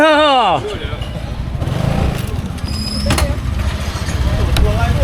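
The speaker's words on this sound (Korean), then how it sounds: "우리는 오토바이 타고" Motorcycles pulling away in Chiang Mai, Thailand, engines droning steadily and building toward the end, with a brief rising tone at the start and people talking over it.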